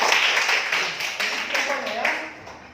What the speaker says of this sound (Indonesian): tepuk tangan untuk Roni